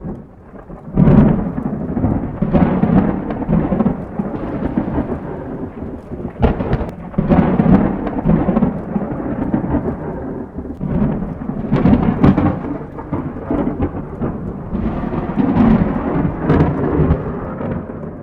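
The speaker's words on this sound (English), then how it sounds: "My absolute fave being the lightning storm." A thunderstorm with heavy rain falling steadily throughout, broken by several loud, sharp thunder cracks and rolling rumbles spread across the clip.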